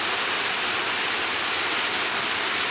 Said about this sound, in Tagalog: Nag-ulan diri sa amoa